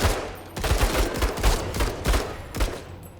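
Gunfire in the tactical video game Menace, a series of heavy, booming shots spaced roughly half a second apart, loud and close with rumbling low-end punch and no talk over them.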